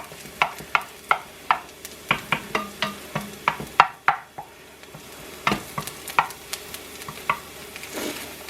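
Food sizzles softly in a pan on low heat under a low background hiss. A utensil stirs and taps against the pan in quick, repeated knocks, and no one speaks.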